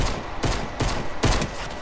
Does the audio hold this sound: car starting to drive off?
no